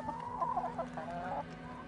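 Domesticated hens cluck nearby in a short run of soft, uneven calls over a steady low background hum.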